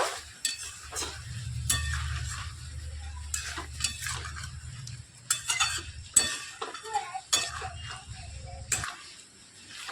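Cauliflower stem curry with sugar being stirred in a pan, with repeated scraping and clinking of a spoon against metal over a soft background sizzle.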